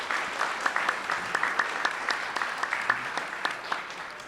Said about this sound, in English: If we can give the panel a round of applause.